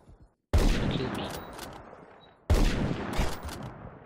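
Two sharp, loud sniper rifle shots in a shooter video game, about two seconds apart, each cracking suddenly out of near silence and trailing off in a rumbling echo.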